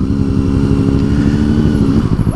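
A Kawasaki Ninja 650 motorcycle with a loud exhaust rumbles steadily up close, its deep, throbbing engine note holding even throughout with a slight rise near the end.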